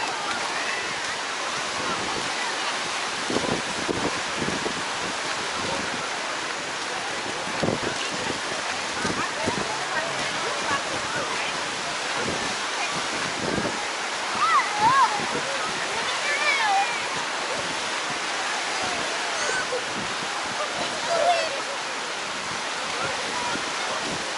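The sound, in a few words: wind blowing on Clearwater Beach, Florida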